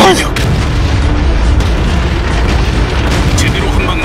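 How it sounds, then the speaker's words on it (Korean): A WZ-132 tank fires its cannon and scores a hit in World of Tanks, with a heavy boom over a loud, continuous rumble of battle. "사격 준비 완료 제대로 맞췄습니다"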